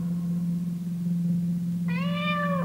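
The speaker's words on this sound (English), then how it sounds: "What has got into that cat?" A single cat meows once near the end, a clear rising-falling cry heard over a steady low hum, with no speech.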